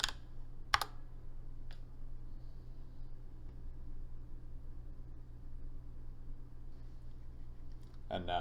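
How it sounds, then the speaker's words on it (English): A command to install wget is typed on a computer keyboard: a few scattered key clicks over a steady background hum, with a short burst of taps near the end. "And now we want to install wget, so we'll type in yum install"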